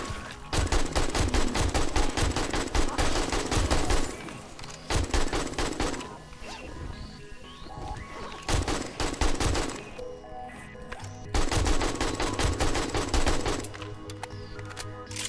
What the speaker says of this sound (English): Guns are quite strong in this mod.